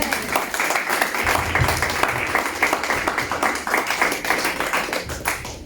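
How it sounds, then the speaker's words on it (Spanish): Church congregation claps for God during a Spanish-language sermon, a rhythmic pulsing applause with roughly regular beats, fairly close and steady before cutting off near the end. "Dale un aplauso a tu Dios."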